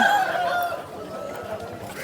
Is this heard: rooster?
yes